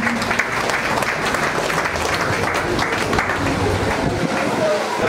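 A large crowd at a worship gathering bursts into sustained, dense clapping that holds steady and loud throughout, with voices faintly mixed into the applause.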